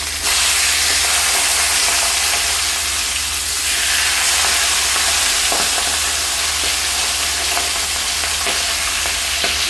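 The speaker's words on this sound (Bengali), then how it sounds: "মাছের মাথাগুলো একদিকটা ভালো করে ভাজা হয়ে গেছে" Rohu fish heads fry in a pan of hot oil with a loud, constant, close sizzle and hiss and occasional spatters and stirring clinks, with no voices.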